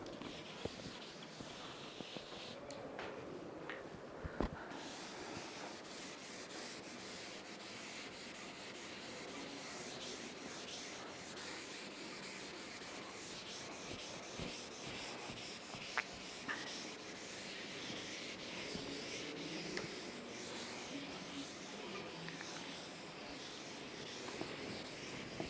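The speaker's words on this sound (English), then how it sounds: "I just rub the board." A board being rubbed clean during a securities valuation lecture, a steady soft scrubbing and brushing that runs continuously through the whole stretch at low level, with a few faint knocks and no talk.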